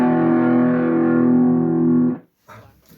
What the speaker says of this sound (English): I want to start with a nice full distortion sound that has some sustain and drive.